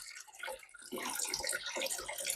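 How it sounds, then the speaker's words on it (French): Water pours steadily from a tap fed by a CLAGE CEX9-U instant water heater, a continuous close splashing rush that grows slightly fuller after the first second. "laisser bien couler l'eau."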